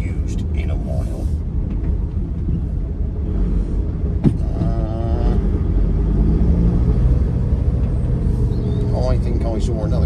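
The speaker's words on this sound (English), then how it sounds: "you can tell the brakes haven't been used in a while." A Mercedes 310d van with long-unused brakes drives along a private road, its engine rumbling low and close throughout while someone talks over it.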